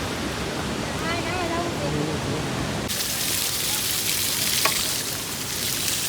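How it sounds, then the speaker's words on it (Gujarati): Mountain waterfall on a pilgrimage trail to Kedarnath, a steady loud broadband roar of falling water that grows louder and fuller partway through, with a brief voice-like tone mixed in earlier. "ધોધ પડે છે પાણીનો"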